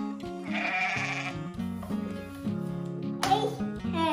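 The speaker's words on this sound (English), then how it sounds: "Goat." A wavering bleat from a goat rises above a steady musical backing, with a second brief cry near the end.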